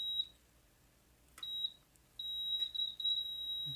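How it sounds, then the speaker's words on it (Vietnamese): Faulty induction cooktop that shows nothing on its display gives a long, high electronic beep after being plugged in. The tone cuts in and out at first, then holds steady, clear and alone in a quiet room. "Sau khi mình đã cắm nguồn điện xong thì nó báo một tiếng bíp kéo dài và không hiển thị một chút gì cả"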